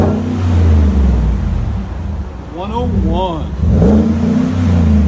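A 2017 GMC Sierra Denali pickup with a 6.2L V8, its muffler cut off and replaced by a Vibrant resonator, rumbles with a deep steady engine drone close by while people talk over it.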